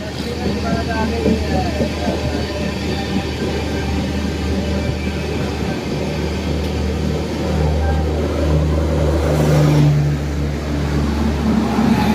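Inside a moving Prayagraj Express train from New Delhi as it overtakes another train, a loud continuous rumble and rattle with a deeper swell toward the end; a person talks over it.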